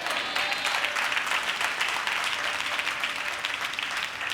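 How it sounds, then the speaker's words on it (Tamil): A church congregation at a Sunday service claps steadily, a dense and continuous round of applause that holds at an even level throughout. "கைதட்டு."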